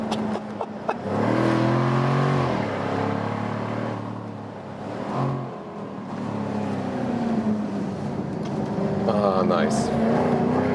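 A 2020 Jaguar F-Type P450 V8 convertible accelerates out of a corner on a road, its engine note rising and holding loud and close throughout, with someone talking over it.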